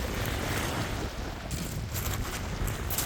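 Strong, steady wind roaring across the open shore of Kapchagay reservoir, a dense continuous rush buffeting the microphone with slight gusting swells and faint water in the background, no voices.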